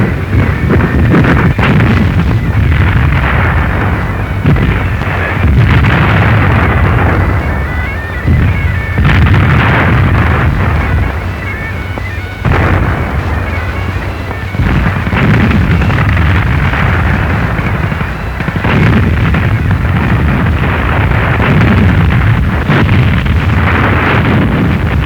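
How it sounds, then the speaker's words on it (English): Naval bombardment and gunfire roar through a WWII beach landing, with repeated heavy booms and blasts over a continuous loud rumble and wind noise throughout. "Under a shattering bombardment from the naval escort assault, landing craft push into shore."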